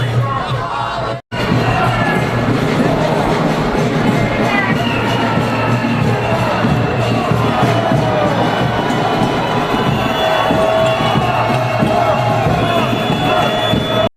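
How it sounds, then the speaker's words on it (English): A large protest crowd fills New York streets outside Trump Tower, a dense, loud wall of shouting, cheering and chanting voices that carries on continuously after a brief cut near the start. "Crowds filled the streets outside Trump Tower, signs raised, chants echoing off the buildings"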